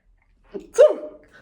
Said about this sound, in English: oh, I got a sneeze